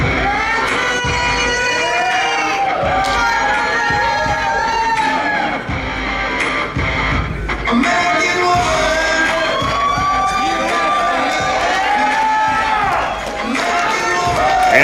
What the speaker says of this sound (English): crowd is anticipating the arrival of Lady Lindsey.